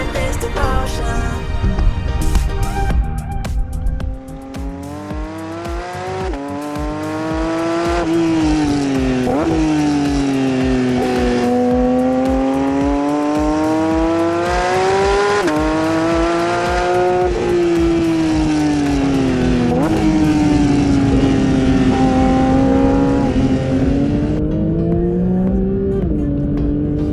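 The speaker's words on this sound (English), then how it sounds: "Hard driving around a circuit for the day in this GT3 or any Porsche for that matter raises no causes for concern." A Porsche 992 GT3 is driven hard around a race circuit on a track day, its engine revving and rising and falling steadily in pitch through gear changes, loud and close, with music playing over it.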